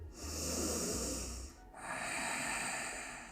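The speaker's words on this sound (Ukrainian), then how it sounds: "І ще вдих." Two long, audible breaths drawn in through the nose during a yoga breathing cycle, each a soft airy rush lasting over a second, close and quiet with no talk.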